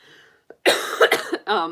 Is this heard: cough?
yes